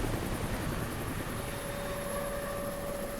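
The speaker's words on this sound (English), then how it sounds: "finally getting rid of this goddamn helicopter just chasing us all the way" A video-game helicopter roars continuously while chasing the player, a dense rotor-and-engine drone with a steady whine running throughout at constant loudness, no speech.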